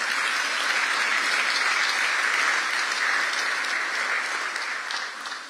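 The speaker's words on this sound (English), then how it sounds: "Please clap for that." Audience applause at a university athletics press conference in Memphis, a dense, steady wash of clapping that holds evenly and starts to thin slightly at the very end.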